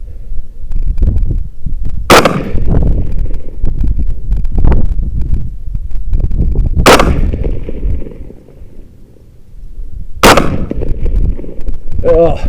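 Three sharp rifle shots ring out outdoors, several seconds apart, on a long-range shooting line using a $99 Amazon scope. Each loud crack trails off in a rolling echo over steady wind noise.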